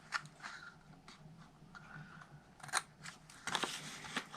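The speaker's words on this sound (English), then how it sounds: "We're going to cut the side of the rectangle straight and then wedge the square." Scissors cut paper for a small chocolate bar gift box, giving irregular snips and rustles close by at moderate volume, with denser crisp cuts toward the end and no talk.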